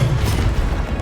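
The Incendio fire spell is cast in Hogwarts Legacy, a short, loud whooshing burst with a low rumbling boom that quickly tails off.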